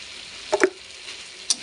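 Pea curry with spices and a little sugar is stir-fried in a pan, a faint low sizzle broken by a couple of brief spoon scrapes and clinks close by.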